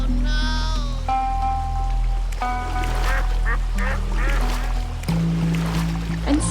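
Cartoon ducks quack in an animated moral story, a few bright calls rising over a steady music bed with a narrator's voice running throughout.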